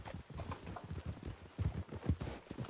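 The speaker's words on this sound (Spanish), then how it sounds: "¡Qué galope más cómodo!" A horse gallops in the Red Dead roleplay game RedM, its hooves drumming in a steady, rhythmic clip-clop at moderate volume and fairly close.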